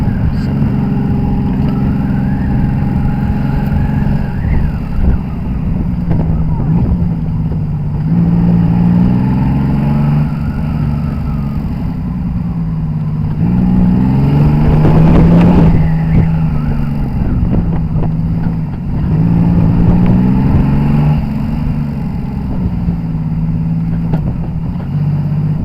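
A classic Yamaha XS750SE motorcycle engine runs steadily at tick over, a loud close rumbling idle with a few gentle rises in revs and a slight surge near the middle, no talk over it.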